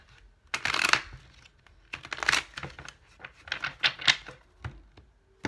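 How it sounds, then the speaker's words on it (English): Oracle cards being shuffled by hand during a tarot-style reading, giving quick papery riffles and soft slaps in several short bursts close to the microphone, with no talking. "One more shuffle for Pisces."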